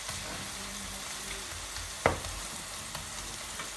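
Spinach frying in a pan, a steady soft sizzle and crackle throughout with one sharp clatter near the middle, fairly quiet and with no talking.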